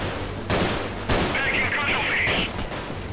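Video game gunfire in a guerrilla-warfare battle comes in dense, loud bursts of rapid shots beginning around half a second and again after one second, overlapping a talking voice.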